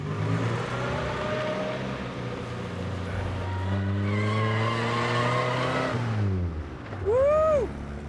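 A British car's engine pulls hard and close, its pitch climbing steadily through the gear, then dropping at a shift before a short tire-squeal-like whine near the end.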